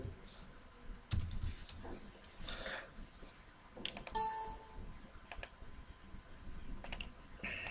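Typing on a computer keyboard while entering a label caption in a Rad Studio program, with irregular bursts of close, crisp key clicks and some louder taps, and a voice speaking faintly at times.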